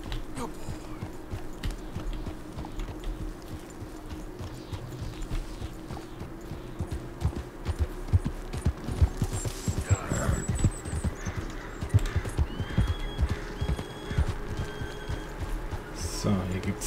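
Horse hooves trotting in Red Dead Redemption 2, a steady clip-clop rhythm that grows louder and quicker midway, with tack rattles and someone talking over it in German.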